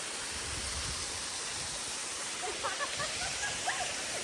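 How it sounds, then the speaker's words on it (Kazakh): Mountain waterfall in the hills near Almaty, running low on water, a steady broadband rush of falling water heard close and continuous, with faint higher chirps near the end. "Ал сонау жақтан іздеп келген водопадымыз осы."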